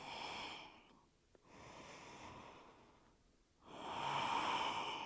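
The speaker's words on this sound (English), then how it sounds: "Deep, steady breaths." A person breathes deeply and steadily during yoga practice: a long airy inhale, a pause, then another strong breath, close to the microphone with no other sound.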